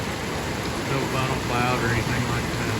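Steady heavy rain falls through a May 2024 storm near Miami, a constant broadband hiss lasting the whole clip while someone talks over it.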